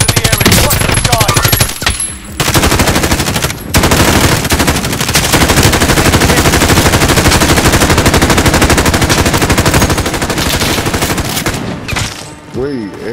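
Sustained automatic gunfire in Call of Duty: Modern Warfare, loud and near, with dense rapid bursts running almost continuously, one brief lull, and a few shouted voices mixed in.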